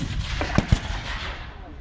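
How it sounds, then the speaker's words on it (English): Cannon firing at a US Civil War re-enactment battle, with two sharp booms in quick succession that echo against a low background murmur. "the Confederate cannon are trying to give some support because they can see their men are really suffering"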